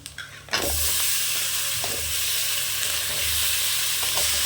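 Chicken pieces for chicken varuval drop into a hot pan and fry with a loud continuous sizzle, punctuated by occasional stirring scrapes and a steady low hum.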